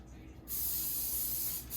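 A short, soft hiss of an aerosol can of cooking spray over potatoes on tin foil starts after a brief pause and continues steadily for over a second, close and quiet.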